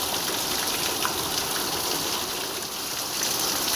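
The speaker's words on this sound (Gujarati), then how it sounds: "વરસાદ હજી ચાલુ છે" Heavy monsoon rain pours down in Vallabhipur during a flood, a loud, dense and continuous hiss of downpour close by with no voices.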